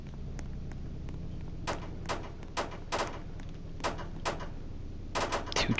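Sharp gunshots ring out in a Roblox hood game, several cracks spaced irregularly over steady low background hum, a quick cluster of shots closing it out.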